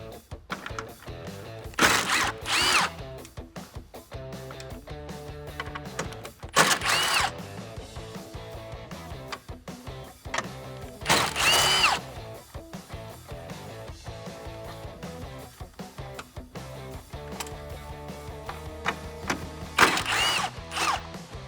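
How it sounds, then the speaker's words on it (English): An electric ratchet removes the 10mm bolts holding the grille of a 2009-2018 RAM 1500 with the hood up, giving several short buzzing whirs separated by clicks and handling noise over background music. "We used an electric ratchet, but a regular hand ratchet will work just fine."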